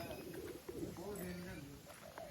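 A pigeon coos in soft, repeated low calls, faint and somewhat distant, over a steady background hum.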